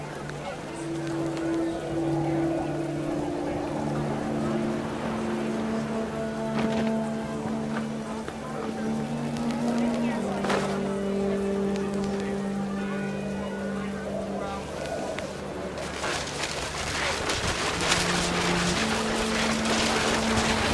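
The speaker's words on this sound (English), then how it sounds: "Rain came down in buckets then" Heavy rain pours down in the video game What Remains of Edith Finch, a soft, continuous hiss under sustained tonal music. The noise swells louder toward the end.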